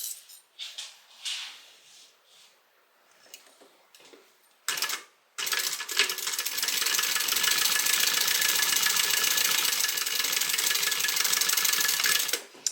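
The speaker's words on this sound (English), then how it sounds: "And we are going to stitch using a 1/2 inch seam allowance." A sewing machine topstitches a small tote bag at a 1/2 inch seam allowance, running in a steady, loud, rapid mechanical patter for the last seven seconds after some brief handling noises and short starts.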